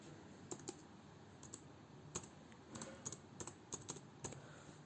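Computer keyboard typing a MySQL command into Notepad, heard as scattered, quiet, close key clicks in small irregular clusters over a soft background hiss, with no talk.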